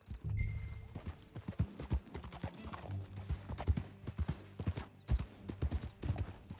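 Horse hooves clip-clopping in Red Dead Redemption 2, an uneven run of close, crisp hoof strikes on hard ground with soft movement sounds between them.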